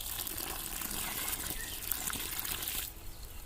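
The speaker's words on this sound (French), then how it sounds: "on va commencer par arroser le trou plantation." Water pours into a planting hole in a vegetable garden between corn plants, a steady close trickle and splash that runs for a few seconds, then thins out at the end.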